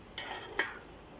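Metal utensils clink twice against a pan while fried lauki (bottle gourd) is served out, two short bright taps over a faint background hum.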